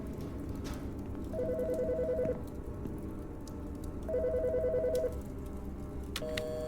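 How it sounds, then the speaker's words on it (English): A telephone rings in a virtual autopsy game: two long trilling electronic bursts about a second each, separated by a pause, over a steady rain-like background hiss. "Phone."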